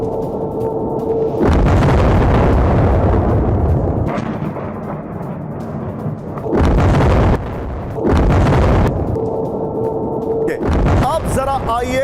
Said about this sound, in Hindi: ट्रम्प कह रहे हैं ऑब्जेक्टिव अल उदैद बेस पर विध्वंसक मिसाइल अटैक